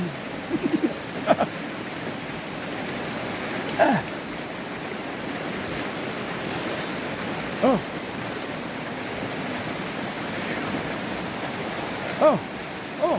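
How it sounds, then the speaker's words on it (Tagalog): Steady rain falls outdoors among banana plants, a dense hiss of drops on leaves and surfaces with louder drips at intervals, continuous and fairly close. "Tanawan ninyo, ulan man"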